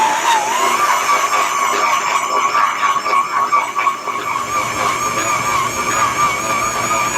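A stand mixer kneads sticky buttermilk dinner roll dough, a loud continuous whirring motor whine with a rising squealing pitch and a rough churning undertone, close and steady with no talking.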